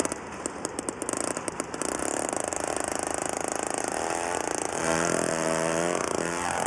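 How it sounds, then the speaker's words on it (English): A powered ice auger bores a hole through frozen lake ice for ice fishing, its small engine droning steadily and rising in pitch partway through, with crackling and grinding as the bit cuts, close and continuous. "After Jean-Claude drilled the hole, we had to scoop all the slush out"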